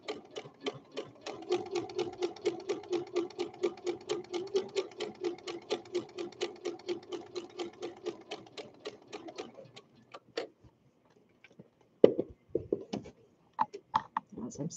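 A sewing machine runs steadily for about ten seconds while stitching fabric for skirted baby bummies at a serge-stitch edge, producing a fast, even mechanical ticking at close range, then stops and gives a few short isolated bursts.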